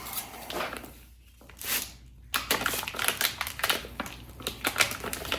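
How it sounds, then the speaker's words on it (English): Hub cap packaging for a squarebody Chevy is torn open by hand, crinkly plastic and cardboard rustling in short bursts with a brief pause, close up and without talk. "Let's get this bad boy opened up."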